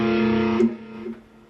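An electric guitar plays two notes of a sixth interval together, ringing as a sustained chord that fades within a second or two before a faint second strike.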